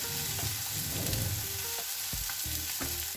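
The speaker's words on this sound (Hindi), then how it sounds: "भाजी को थोड़ा सा गर्म करते हैं बटर के" Bhaji heats in butter in a pan at a street food stall, giving a loud, steady, continuous sizzle with occasional stirring scrapes and no talk.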